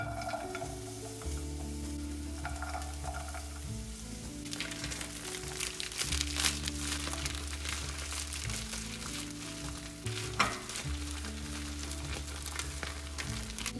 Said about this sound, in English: Once your oil has heated up, we're gonna add in the onions, garlic,